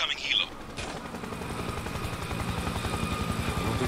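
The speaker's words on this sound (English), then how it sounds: "Slow up. Incoming helo." A helicopter approaching in the video game Spec Ops: The Line, a steady rhythmic rotor thump that builds and holds after a brief higher sound at the start, fairly loud and close, with some voice overlapping.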